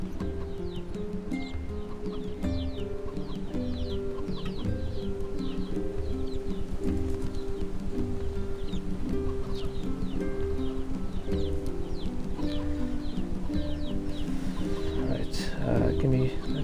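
A hen clucks in the video game NieR Replicant amid a dense, steady game soundscape with rhythmic clip-clop-like patter and bird chirps, the clucking blended into continuous ambient sound rather than standing out.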